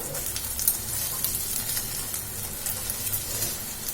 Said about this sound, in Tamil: இப்படி இருக்கும் போதே நம்ம இந்த கரண்டி வச்சு உடைச்சு விட்டுக்கலாம்.